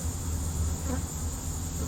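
Honeybees buzzing inside a hive box as they settle into a new home, a dense continuous close drone with no talking over it.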